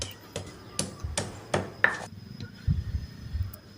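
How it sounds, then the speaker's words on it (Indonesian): Candlenut, garlic, pepper and shallots are pounded in a stone mortar, giving a series of sharp, close thuds at an irregular rhythm, some brighter knocks, then softer grinding bumps. "Ini mau kita ulek aja."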